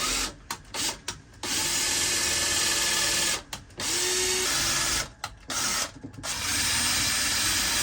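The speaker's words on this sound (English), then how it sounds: "I'm just gonna get these drilled in first on both sides" A power drill whirs loudly in long runs, cut by several brief pauses as it drives screws into wood slats for a bed frame inside a Ram Promaster van, with no talking.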